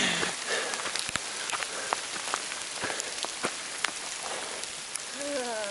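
Hail falls on a Grand Canyon trail, a dense patter with sharp, scattered clicks of stones striking nearby surfaces, continuous and fairly loud, with a brief voice near the end.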